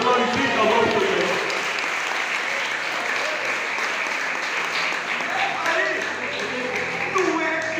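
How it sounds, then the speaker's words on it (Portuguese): Church congregation at a Pentecostal service applauds loudly and continuously, a dense wash of clapping with voices and shouting mixed in throughout. "Aplauda a Jesus, glorifica o nome de Deus."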